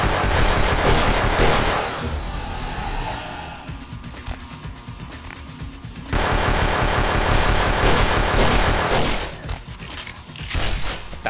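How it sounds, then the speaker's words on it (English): Rapid automatic gunfire bursts rattle through a firefight in the video game Vampire the Masquerade, loud bursts early and again mid-clip, with quieter gaps between and faint background game noise. "What the hell are you shooting?"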